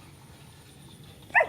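An old dog lets out a single short bark at the very end, after a stretch of quiet background hum.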